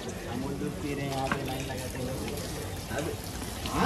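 At the Pali Ballaleshwar temple, water splashes and runs steadily as people wash their hands and feet, a close, continuous pouring and trickling sound, with voices heard faintly around it.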